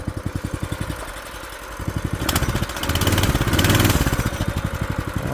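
Old dirt bike engine, run again after years of sitting, idles with a steady rapid putter, close and loud, and its pitch rises and thickens briefly near the middle before settling back to a rhythmic idle.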